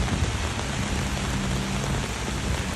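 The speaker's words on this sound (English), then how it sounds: "You can see how much it's raining." Heavy rain pours down steadily during an atmospheric river in a dense, continuous hiss with no pauses, loud and close, with no voices.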